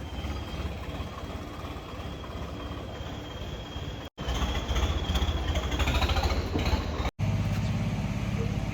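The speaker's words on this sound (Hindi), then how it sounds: "लो भाई ट्रैक्टर जा लिया" Tractor engine running steadily with a constant low rumble, continuous and fairly loud throughout, with a couple of brief cuts.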